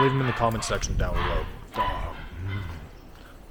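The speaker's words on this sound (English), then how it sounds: "Those dogs are being so loud." Several dogs bark and yip nearby while someone talks over them, their barks bursting in short repeated volleys that mostly blend under the speech.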